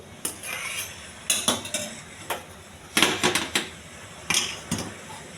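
A cooking pot being handled in a kitchen while a tamarind rasam simmers, with several clustered metallic clanks and scrapes of pans and utensils arriving in bursts, close and fairly loud, with no talking.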